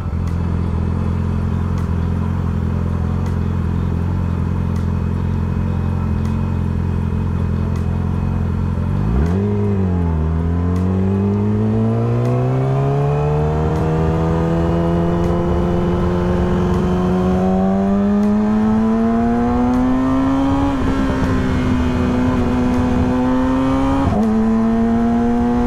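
Steady engine drone of a vehicle in street traffic, then rising harmonic tones as it accelerates through several gear-like climbs, loud and continuous with no voices.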